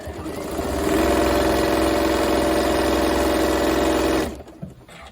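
A sewing machine stitches quilt binding at high speed, a loud steady whirring run lasting about four seconds before winding down and stopping.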